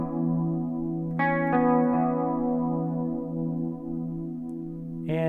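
Electric guitar through a chorus effect playing a riff, clean shimmering picked notes ringing over a steady sustained tone, with a fresh chord struck near the end, alone and without voices.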